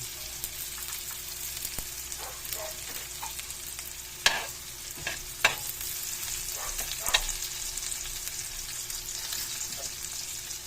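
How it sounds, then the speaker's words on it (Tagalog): Onion and garlic sauté in a pan with a soft, continuous sizzle broken by several sharp clicks and scrapes of stirring, at moderate volume with no talking. "Iligisa ko na dito ang aking sibuyas at saka bawang."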